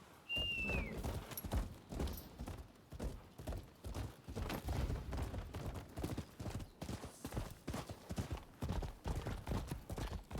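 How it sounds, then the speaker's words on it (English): A horse's hooves clip-clop in a steady, even rhythm in the video game Rise of the Ronin, moderately loud and sustained throughout, with a brief whistle-like tone near the start and no talk. "Horse."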